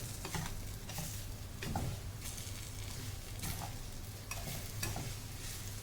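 Roasted semolina and banana being stirred in a pan, a continuous scraping, sizzling churn with rhythmic spoon strokes about every second, close and loud.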